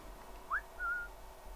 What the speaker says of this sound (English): Maybe it's close enough to where I can whistle him over.